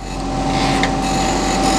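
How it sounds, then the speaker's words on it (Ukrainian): Power tool dry-sanding a globe table, a close, steady whirring buzz with a faint scratchy rasp, heard alone for under two seconds. "Шліфую на сухо"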